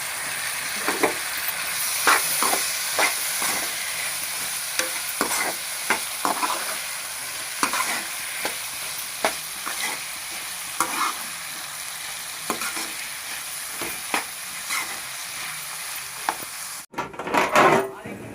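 Masala with tomatoes fries in a pan with a constant loud sizzle, broken by repeated scraping strokes of a spoon as the mixture is stirred throughout.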